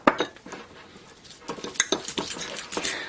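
Potato and minced beef gratin mixture being mashed and stirred in a dish, with quick irregular clinks and scrapes of utensil on the dish, fairly close and soft.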